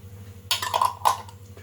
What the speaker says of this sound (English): Put the lid back on.